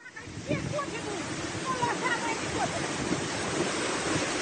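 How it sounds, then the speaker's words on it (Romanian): Floodwater torrents rush through a village in Șoldănești district with a loud, continuous roar, mixed with wind buffeting the microphone and faint voices in the background. "puhoaiele de apă au înghițit totul în calea lor, provocând pagube și blocând drumuri"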